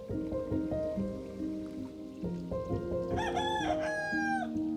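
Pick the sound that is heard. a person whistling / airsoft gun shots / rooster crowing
rooster crowing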